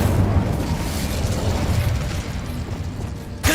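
A fire spell blast, Incendio, cast in Hogwarts Legacy, heard as a loud, sustained roaring whoosh with crackling texture, ending in a sharp burst near the close.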